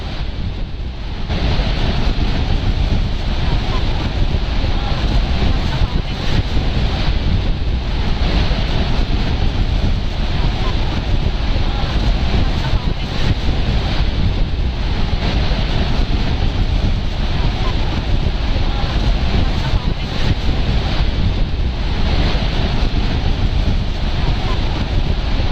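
Niagara Falls roaring on the American side amid heavy mist, a loud, continuous broadband rush of falling water mixed with wind buffeting the microphone, with no pauses.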